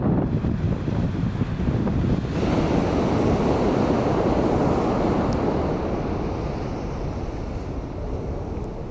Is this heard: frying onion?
no